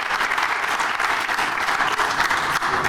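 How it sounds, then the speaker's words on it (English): Dense, continuous applause from a crowd at a Northwestern football panel event, a broad wash of many overlapping claps sustained evenly throughout, moderately loud with no talk over it. "how about a round of applause for that?"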